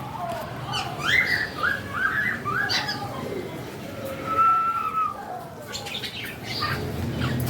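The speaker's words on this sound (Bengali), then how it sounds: "এইটা হলো আমার ককটেলের পেয়ার" A pair of large cockatiels calls in short, bright chirps and whistles, a few quick bursts close by over a soft indoor background hum.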